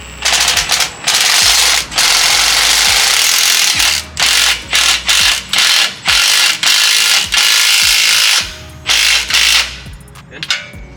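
Rapid ratcheting clicks from a socket wrench turning an exhaust bolt on a 2022+ Toyota Tundra, loud and close, in repeated bursts separated by short pauses.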